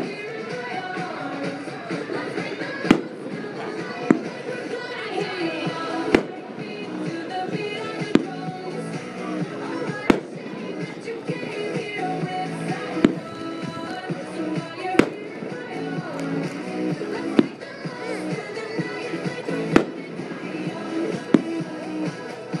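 A 500-gram Chronic firework repeater by Big Fireworks fires a steady series of loud shots and crackling bursts, sharp reports recurring every couple of seconds over continuous sizzle, with no talk.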